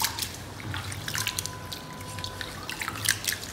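Rice being rinsed in water for idli batter, close sloshing and dripping with light splashes and trickles, steady and moderately loud with no voices.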